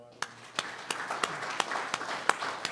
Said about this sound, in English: I would like you to join me in a round of applause for these moderators